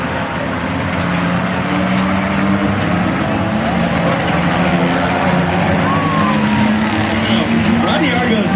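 Race cars roar steadily at a figure 8 demolition derby at Irwindale Speedway at night, a loud continuous engine drone with an announcer talking over it throughout.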